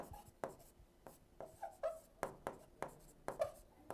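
Chalk or marker writing on a board during a history lecture on ancient India, heard as a steady run of short, sharp taps and strokes, close and fairly quiet, with no talk over it.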